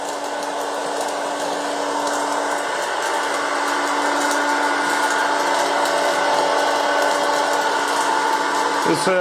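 An oil-free hot air popcorn maker runs with a steady, loud blowing whir and a constant motor hum, close by and unbroken for the whole stretch, with a brief clunk near the end.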